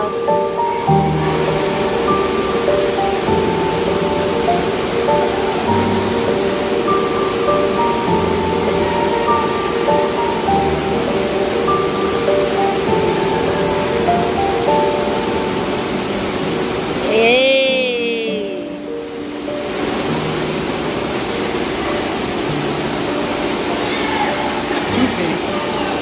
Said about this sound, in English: Then you got the little waterfalls.